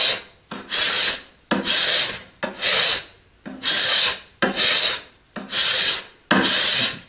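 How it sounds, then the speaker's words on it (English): A card scraper drags across wood while a woodworker straightens and smooths a fishing pole rack, giving seven regular, loud, raspy strokes of about half a second each, separated by brief pauses, with no talking. "I just use a card scraper. Works great for getting back into the corners."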